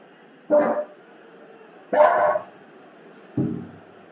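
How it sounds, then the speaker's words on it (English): A dog barks three times, spaced about a second and a half apart, each bark short and fairly close against a quiet background. "Yes, my dog's name is Anchovy"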